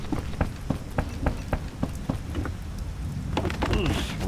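Rain falling in The Witcher video game, a steady wash of downpour with repeated sharp thudding hits and a low rumble, a faint voice briefly rising near the end.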